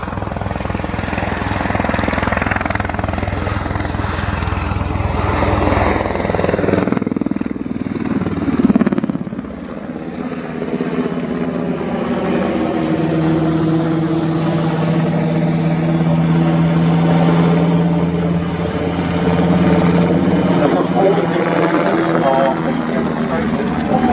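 German Army NH Industries NH-90TTH helicopter flying a low-level display with pop-up manoeuvres at an air show, a loud continuous rotor and turbine roar that shifts in pitch as it passes, with commentary over a public address.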